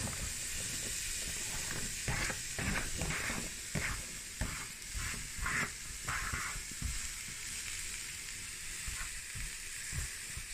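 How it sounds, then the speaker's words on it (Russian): Sliced zucchini sizzles steadily in a dry frying pan, a close, even hiss broken by soft stirring and scraping sounds, with no one speaking. "кабачок нарезан и отправляем его на сухую"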